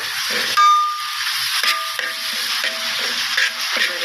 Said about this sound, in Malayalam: ആ പേസ്റ്റ് ചേർത്ത് കൊടുക്കാം എന്നിട്ട് നന്നായിട്ട് വഴറ്റി കൊടുക്കാം